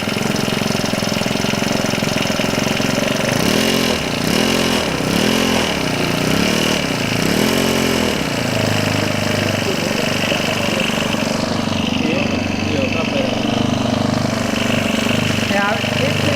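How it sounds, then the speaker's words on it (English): A small two-stroke whipper snipper or chainsaw engine runs steadily and loudly close by, its buzzing drone holding throughout with a few uneven surges and dips in speed, as if just cleared after flooding. "Now, if the engine's running too slow, you know you can adjust the idle speed."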